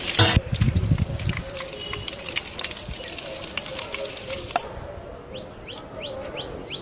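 Quail frying in a pan in a village kitchen, a steady close sizzle that flares loud at the start, with bird chirps in the background toward the end.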